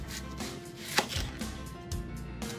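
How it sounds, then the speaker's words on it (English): A knife slicing through a large onion on a cutting board, giving a few crisp, close chopping taps spaced irregularly, with one sharper knock near the start. "you're going to take a large onion and you're going to slice it"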